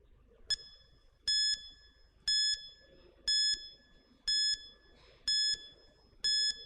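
A quiz countdown timer sounds a repeated electronic chime, seven evenly spaced bursts about one second apart, clear and alone over quiet room noise.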